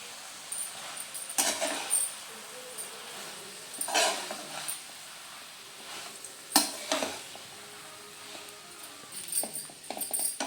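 Leftover chopped chapati being stirred with coriander in a pan, producing intermittent scraping and clattering strokes over a soft background sizzle, with sharp louder bursts at irregular intervals.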